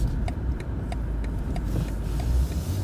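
A 2021 BMW M8 Competition Gran Coupe holding a gear through a corner, its engine a loud, steady, droning rumble from inside the cabin with faint rhythmic ticks, no talk over it.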